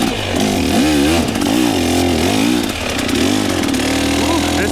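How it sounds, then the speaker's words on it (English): A hard enduro motorcycle engine runs loud and close throughout, its revs rising and falling in a continuous, wavering drone during technical off-road riding. "This is why you keep your bike running."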